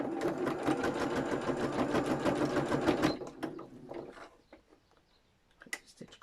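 A sewing machine stitches across the bottom of a fabric-covered tag, a fast rhythmic run of close stitching for about three seconds, followed by scattered clicks and quiet handling noises.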